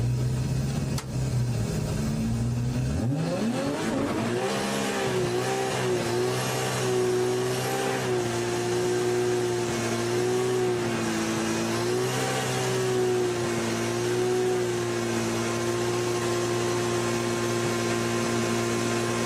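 A drag race car at a Pro Drag Japan event performs a long burnout, its engine climbing sharply after a few seconds and then holding a loud, steady high-revving howl for the rest of the stretch, with no talking.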